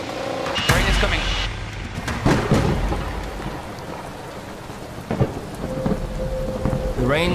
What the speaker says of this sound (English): Rain is coming.